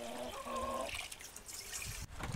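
Water trickles and splashes in bowls as black trumpet mushrooms are rinsed, a steady close-up dribble with a brief voiced tone near the start.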